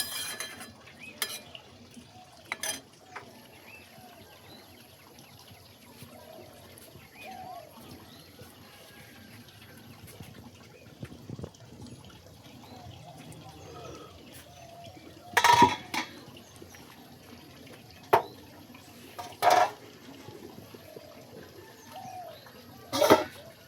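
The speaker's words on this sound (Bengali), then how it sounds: "নুন আর হলুদটাকে জলে ভালোভাবে মিশিয়ে নিই মোচার সাথে" Banana flower being mixed with salt, turmeric and water in a bowl, soft wet stirring and rustling close by with a few sharp clinks of utensils against the vessel near the end.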